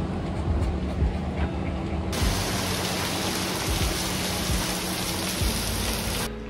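Continuous rainfall with a broad steady hiss and a low rumbling undertone, holding constant for several seconds.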